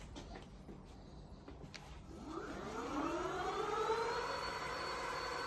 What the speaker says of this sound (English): So let's give it a little bit of a spin, twisting the throttle.